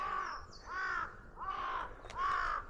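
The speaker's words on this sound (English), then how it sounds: "I like to think that the crows are my friends. So, yeah, they always like chat at me when I'm hiking" Crows caw along a hiking trail in Minoh, four loud, harsh calls in an uneven rhythm, heard close and alone without any talking.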